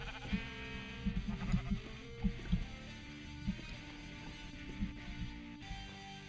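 Sheep in the Minecraft video game give several short bleats at irregular intervals, moderately loud over a faint background tone and game sounds.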